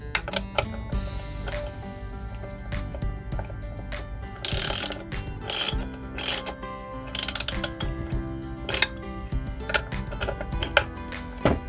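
A hand ratchet tightening fasteners on the upper right control arm of a C3 Corvette, rapid clicking strokes repeated across the clip, with a few louder metallic clanks and knocks, close up with no talk.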